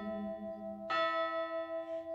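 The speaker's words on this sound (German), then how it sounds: "wie eine Glocke, lass es hängen und dann lausche seinen Klängen" Bell ringing in a calm children's unicorn yoga setting: a soft, sustained toll with a second, brighter strike near the middle, letting long harmonic tones ring and fade, fairly quiet and alone.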